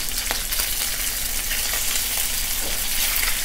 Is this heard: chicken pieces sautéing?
yes